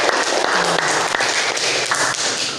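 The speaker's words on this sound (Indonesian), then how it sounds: "Kasih tepuk tangan." A classroom group in an Islamic jurisprudence lesson gives a short burst of brisk, close applause that stays even and loud throughout.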